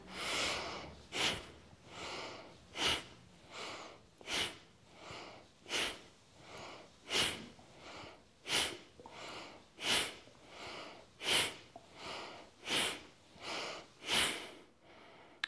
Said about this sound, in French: une grande inspire par le nez, une grande expire par le nez